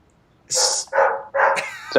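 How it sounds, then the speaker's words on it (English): A pet dog named Brody barks three or four times in quick succession, close and sharp, with short yips between bursts in an otherwise quiet room. "that's my dog."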